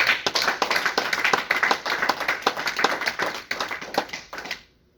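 A church congregation applauding the Lord: steady, dense, rhythmic hand clapping from many people that carries on strongly throughout, then drops away at the very end.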